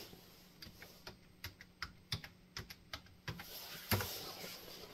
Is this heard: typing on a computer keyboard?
yes